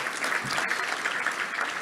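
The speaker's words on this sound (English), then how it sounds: "round of applause for our high school athletes in the state of Arkansas" A crowd applauds steadily at a touchdown club luncheon, a dense wash of clapping from many hands with no pauses.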